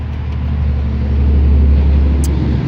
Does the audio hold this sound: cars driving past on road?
yes